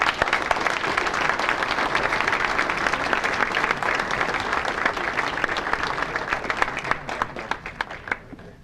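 An audience at a Pennsylvania Sports Hall of Fame banquet applauds a sports officiating honoree, a dense, sustained clapping that holds steady and then thins into scattered claps near the end, with no talk.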